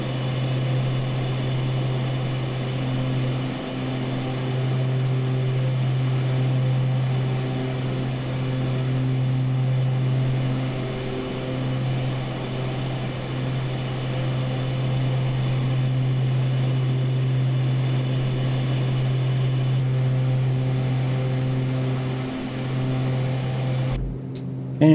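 Beechcraft Starship twin pusher-propeller engines droning steadily in a flight simulator, a loud continuous hum with a strong low tone and layered harmonics, heard from an outside view, cutting off abruptly at the very end.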